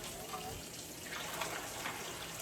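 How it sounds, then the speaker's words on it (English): Ice water pours into a bowl for an ice bath in a kitchen, a steady broad rushing splash that continues throughout the clip, with no talking over it. "I'm just putting some ice water in here"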